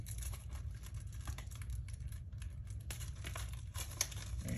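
Plastic wrap crinkles and tears as it is peeled off a Blu-ray case, a busy run of crackling and rustling close by, fairly quiet, with no talk.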